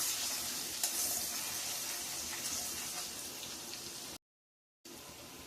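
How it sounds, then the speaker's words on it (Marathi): Ginger garlic paste sautés in a pan for an egg biryani, giving a steady close sizzle and frying hiss, broken by a brief gap of silence before resuming. "अद्रक लसणाची पेस्ट। ती छान अशी परतून घ्यायची आहे याच्यामध्ये"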